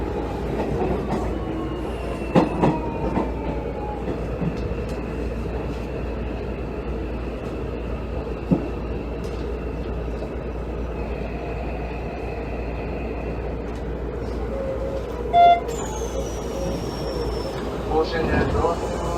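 Hanshin 5700 series electric train, car 5802, running between Kusugawa and Amagasaki Center Pool-mae in Japan: a steady interior rumble of wheels and motors with occasional clicks and a brief squeal, no talk.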